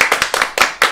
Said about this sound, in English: Alright, clap everyone.